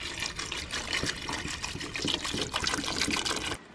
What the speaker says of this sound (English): Put a little bit of water.